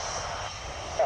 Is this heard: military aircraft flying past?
yes